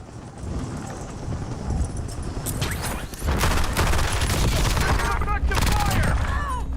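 Gunfire in Warzone: rapid bursts and fusillades of shots crackle over a dense, loud combat din that grows heavier midway, with overlapping distant reports and voices talking throughout.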